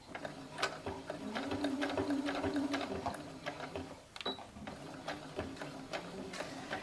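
A sewing machine runs a double seam on a robe, a close rhythmic mechanical chatter that speeds up and slows down, with brief pauses between runs.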